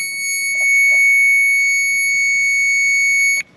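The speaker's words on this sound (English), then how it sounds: "We're going to take our power probe, and it should beep for 12 volts." A handheld power probe emits a steady, loud high-pitched electronic tone while testing for 12 volts at a fuse on a BMW E46, holding for about three seconds before cutting off.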